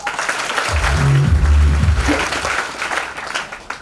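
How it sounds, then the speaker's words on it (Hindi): Classroom applause for a student named Sandeep, scattered claps over a low voice-like hum early on, steady and fairly close for a few seconds. "एक बार संदीप के लिए तालियां करना।"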